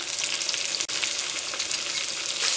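Sliced onions with ginger garlic paste frying hard in a pan for a spicy capsicum chicken masala, giving a loud, dense, continuous sizzle up close, with one brief dropout partway through and no talking.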